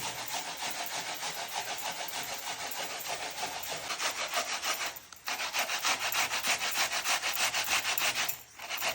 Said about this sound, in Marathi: व्यवस्थित किसून घ्यायचं काम चालू आहे